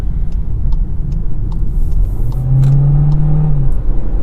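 A 2021 Volkswagen Jetta pulls away under acceleration, its engine note rising smoothly from inside the cabin over steady road rumble, with no voices.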